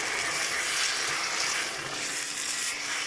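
A milk béchamel sauce cooks in a pan over lowered heat, giving a steady, even sizzling hiss that runs unbroken at moderate volume with no talk.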